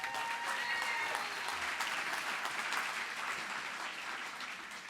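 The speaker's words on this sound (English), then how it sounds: "Give her a big round of applause." A dense, sustained round of audience applause at a Mega Success business event greets Stephanie. The clapping is steady and fills the room, easing slightly toward the end.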